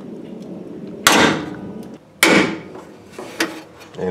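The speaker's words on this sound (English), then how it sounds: "now I'm gonna punch a hole on all four of them that we scribed over there" A center punch is struck with a hammer to mark scribed hole locations in metal before drilling, during vacuum pump installation on a car's brakes: two sharp, close metallic taps about a second apart over a faint background hum, followed by lighter clinks.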